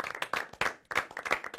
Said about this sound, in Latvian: Aplaus Jānim, aplaus Kristāli, aplaus arī Oskaram